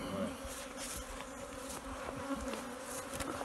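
Honey bees buzz steadily around an opened Warré top-bar hive during a honey harvest in Martinique, a dense continuous drone of many insects close by with no voices.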